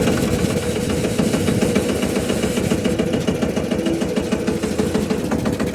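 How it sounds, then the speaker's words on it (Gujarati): A new tractor engine idles loudly and steadily close by, a deep rhythmic chugging rattle that holds an even pace throughout. "ચાલુ થઈ ગયું ટ્રેક્ટર"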